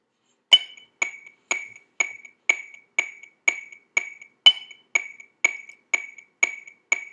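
A Tama Rhythm Watch drum metronome gives steady electronic clicks at an even tempo, about two per second, with a brighter accented click every so often; crisp and isolated against silence, at full volume.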